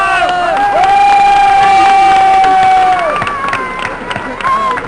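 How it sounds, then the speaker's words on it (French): Loud crowd cheering and shouting with applause at a May Day political rally for the young people present, with sustained whistles and voices rising and then fading into scattered clapping. "On peut les applaudir parce qu'ils sont présents."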